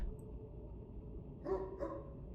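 A dog named Gunpowder in a video game gives two short barks close together near the end, over a low steady background hum.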